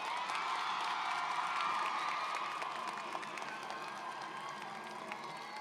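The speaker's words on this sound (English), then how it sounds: "Students and parents, please give our teachers a round of applause." A large crowd of students and parents at a school completion ceremony claps and cheers for the teachers, steady sustained applause with scattered whoops, heard from a distance in a big hall.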